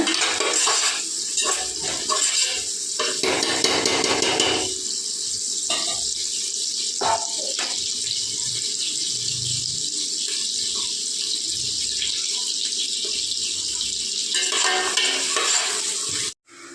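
Onions frying in a pan until golden brown for chicken biryani: a loud, continuous sizzling hiss close by, with occasional clinks and scrapes of a spoon against the pan, and no talking.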